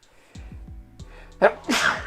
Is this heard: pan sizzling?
no